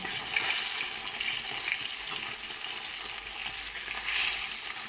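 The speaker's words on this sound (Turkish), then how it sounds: "Ben biraz fazla kızartıyorum arkadaşlar balıkları." Hot oil sizzles and crackles steadily as fish fry in a pan, a continuous frying hiss with small popping bursts and no talk.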